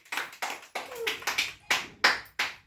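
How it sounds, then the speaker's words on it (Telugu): Preschool children at an anganwadi clap for a classmate walking along a line, about eight separate bursts of close handclaps in a steady rhythm. "క్లాప్స్ కొట్టాలి"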